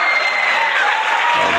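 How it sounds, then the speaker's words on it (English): An audience breaks into applause at a talk on silver rights and civil rights, a brief dense burst of clapping from a crowd, loud and continuous, with no voices over it. "let's get the round of applause going"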